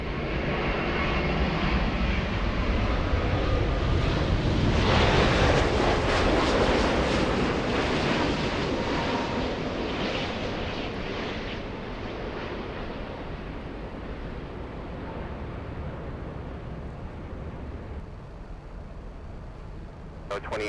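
Airliner taking off from LAX runway 24 left, a loud broad roar of jet engines swelling to a peak and then fading gradually as the aircraft moves away, with faint talk underneath.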